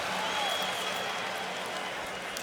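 A large crowd at a college football game between Florida State and Miami in a stadium sends up a dense, steady roar of cheering and applause, loud and constant throughout.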